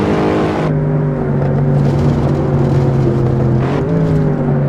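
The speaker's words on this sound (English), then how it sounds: "this is pretty close with an aftermarket exhaust as to what you can make your car sound like" A Cadillac CTS-V mod with an aftermarket exhaust in Assetto Corsa drones loudly and steadily, a deep, rich engine note holding near-constant revs with slight pitch shifts, close and alone.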